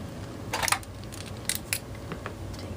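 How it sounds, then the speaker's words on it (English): Scissors cut red twine for a card-making project, giving a few short, crisp snips close by in a quiet room. "My scissors, cut my twine,"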